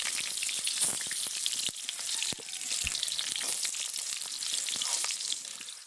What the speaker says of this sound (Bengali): তেল খুব ভালো মতো গরম হয়ে গেছে, এবার আমি আলুগুলো ভেজে নেব।